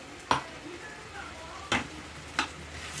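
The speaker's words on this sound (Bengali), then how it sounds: "এটা দেখুন আমি নাড়ছি," Kashmiri red chilli and mixed spices are stirred in a cooking pan. A faint sizzle sits under three distinct clanks of a spoon against the metal pan, spaced about a second apart.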